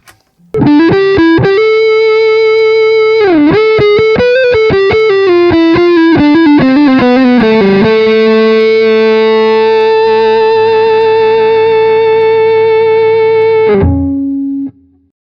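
An electric guitar rings out through an H&K Ampman Classic amp on the neck pickup, a quick run of notes and then a long sustained chord washed in reverb, fading away.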